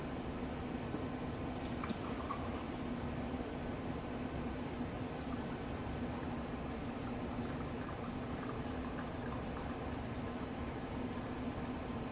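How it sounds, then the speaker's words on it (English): Herbal tea poured through a paper filter set in a coffee funnel makes a steady, soft liquid trickle and hiss, continuous and fairly faint, running unbroken for the whole stretch with a low hum beneath. "I take my tea and I pour it through here"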